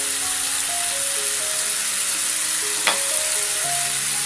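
Sliced onion and ground spice paste sizzle steadily in a hot pan for cauliflower-free stir-fry greens prep, a continuous close frying hiss with a single brief clink of utensil near the end, no voices.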